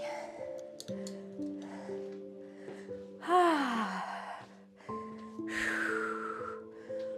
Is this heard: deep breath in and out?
yes